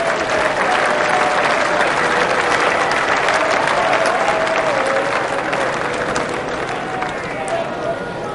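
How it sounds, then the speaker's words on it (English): A cricket crowd at England versus Zimbabwe in the 1999 World Cup group match applauds a late cut by Nasser Hussain, a steady, broad roar of clapping sustained for several seconds across a large stadium. "Crowd appreciating this deft late cut from Nasser Hussain."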